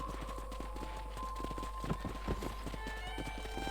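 Horse hooves in the Western game Red Dead Redemption beat a quick, steady clip-clop rhythm over a continuous low hum and background music, at moderate loudness without voices.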